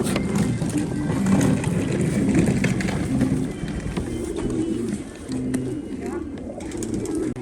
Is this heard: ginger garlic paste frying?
no